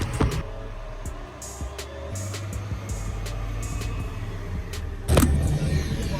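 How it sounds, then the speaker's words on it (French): A bus pulls away on a street, a fairly faint low engine rumble under other passing noise, with a sharper louder burst toward the end and no one talking. "Est-ce que c'est le bus que je devais prendre qui s'est barré là?"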